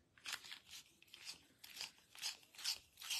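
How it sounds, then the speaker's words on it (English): Repeated dry, scratchy rasping strokes as a white colored pencil is sharpened, about six in a row at a steady rhythm, close up and fairly quiet. "So I'm going to bring my white in. It just needs a little hint of a sharpen."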